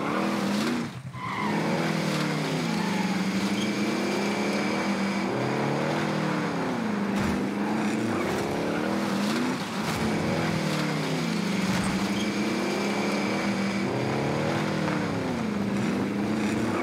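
Vehicle engine in the video game Call of Duty Warzone, revving and shifting pitch continuously as the car drives, with squealing tires and skids, loud and steady throughout.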